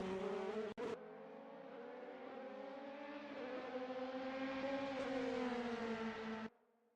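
A DTM race car in a sim racing game at the Portimao circuit, its engine roaring loud and steady at high revs with a brief gap shift near the start, then cutting off sharply near the end.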